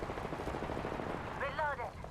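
Gunfire in the battle royale game Apex Legends: a dense, continuous burst of weapon fire across the whole stretch, with a rising whistle-like effect toward the end and a voice talking over it.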